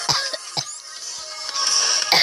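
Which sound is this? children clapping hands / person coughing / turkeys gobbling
person coughing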